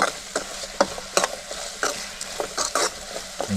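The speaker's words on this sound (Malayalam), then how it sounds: "അത്യാവശ്യം ഇട്ടതിന് ശേഷം നമ്മളതിനെ ഇളക്കിക്കൊണ്ടിരിക്കുകയാണ്." Fish masala being stirred in a frying pan, with a steady sizzle broken by a series of sharp spatula scrapes at an uneven rhythm, close and moderately loud with no talking.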